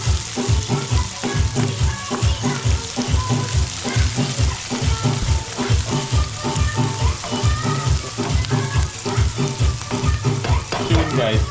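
Onion, garlic and pepper fry in a pan with a steady, close sizzle and a regular rhythmic pulse of stirring or scraping throughout, fairly loud and continuous.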